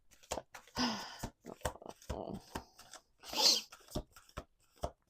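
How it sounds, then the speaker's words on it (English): A deck of tarot cards shuffled repeatedly, with short, close riffling and slapping bursts that recur in an uneven rhythm under and between spoken words. "We're going to do 2 more shuffles."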